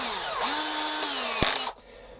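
A power drill bores a hole for tapping in a shop-made lead screw protector block for a Warco WM180 lathe, whining steadily and loudly up close before cutting off abruptly near the end.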